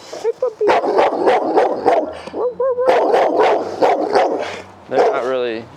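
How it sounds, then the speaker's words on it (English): New neighbor dogs bark repeatedly at close range in short rapid bursts, mixed with whimpers and yips, while a person speaks in between. "Neighbor dogs. These ones are new."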